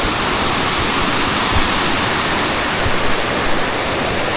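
Water rushes at the mouth of the McGregor River in Kakwa Provincial Park, British Columbia, a loud, continuous broadband roar with no breaks and no voices.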